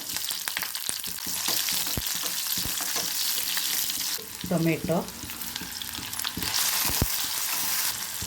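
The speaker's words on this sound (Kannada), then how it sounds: "ಇದಕ್ಕೆ 2 ಸ್ಪೂನ್ ಎಣ್ಣೆ ಹಾಕ್ಕೊಂಡು ಒಗ್ಗರಣೆ ಮಾಡ್ಕೊಳ್ಳೋಣ. ನಂತರ ಸಾಸಿವೆ ಹಾಕ್ಕೊಳ್ಳಿ, ಸ್ವಲ್ಪ ಕರಿಬೇವು ಸೊಪ್ಪು ಹಾಕ್ಕೊಳ್ಳಿ" Mustard seeds, curry leaves and chopped onion tempered in hot oil for a black-eyed pea and sesbania curry, giving a steady close sizzle with scattered seed pops and a brief louder hiss when ingredients go in, no voices.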